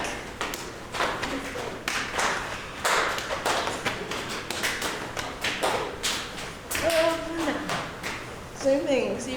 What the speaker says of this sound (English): Can you clap in the back?